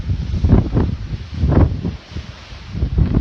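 Strong storm gusts buffet a microphone high on Mount Rogers during a mountain hike, a loud low roaring rush that swells and fades in repeated surges.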